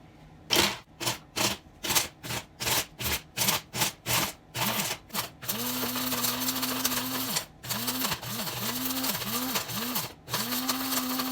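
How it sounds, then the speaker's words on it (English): Electric coffee grinder grinding chunks of chaga mushroom, first pulsed in a dozen short bursts, then run continuously with a steady whirring hum and brief pauses, loud and close. "We're going to go ahead and use the coffee grinder."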